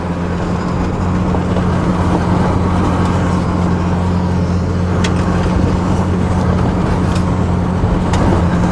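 An off-road vehicle drives through a sandy desert wash, its engine droning loud and steady with a low rumble while the wheels spin and churn throughout.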